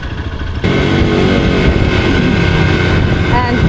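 A Hero XPulse 200 4V 200cc motorcycle engine under light throttle in low gear, a steady loud drone that steps up after a brief quieter moment and holds throughout, with faint chirping tones near the end.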